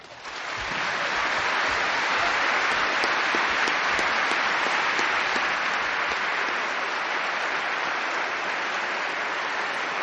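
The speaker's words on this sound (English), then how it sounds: "very much appreciate your applause for me" Sustained audience applause following a lecture on the resurrection of Jesus, building quickly from a few claps into a dense, loud roar of clapping that continues evenly for several seconds with no speech.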